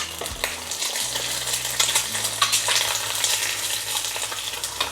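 An egg frying in a pan gives a close, continuous sizzle with crackling spatter, under a low steady hum from a kitchen appliance and occasional light clinks of a utensil.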